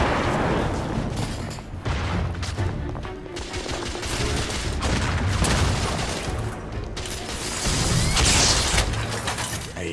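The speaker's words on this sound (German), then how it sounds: "Ey, die explodieren ja." Dense, continuous battle noise from the video game The Order: 1886, with loud explosions and booming blasts mixed with rapid gunfire that keeps a thick, rumbling roar going throughout.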